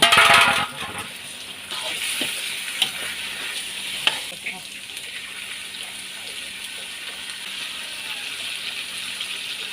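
Eel hits a hot pan for a Thai spicy stir-fry, with a loud sizzle at first and then a steady frying hiss as it is stirred, joined by occasional clinks and rattles of the utensil.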